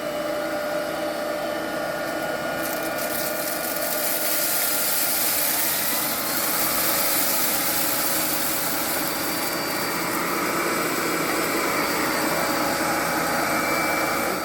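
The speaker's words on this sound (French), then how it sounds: "on va faire une aspiration dans le noir" An AONUS A9MAX cordless vacuum cleaner runs steadily at close range, a continuous loud motor whine and airflow rush lasting throughout with no talk.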